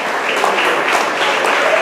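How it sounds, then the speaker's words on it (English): Applause from an awards-night audience for cricket's 2014 First Division champions: dense, steady clapping filling the room at close range throughout, with no talk over it. "Please give them a round of applause."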